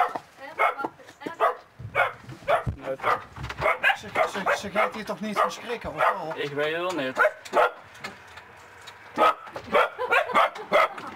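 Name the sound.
small dogs barking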